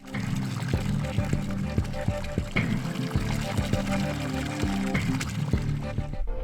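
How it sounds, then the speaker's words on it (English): Running water in the video game Hypnagogia: Boundless Dreams pours and trickles continuously with a few splashy accents, mixed with a low tonal hum beneath. "The calming sounds of running water,"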